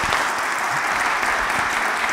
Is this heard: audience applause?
yes